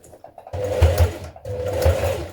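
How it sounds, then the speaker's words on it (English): A sewing machine stitching in the ditch on a trouser waistband, running in two steady humming bursts with a short stop between, close and moderately loud with no voices. "Stitch in the ditch from the right side to catch your waistband down."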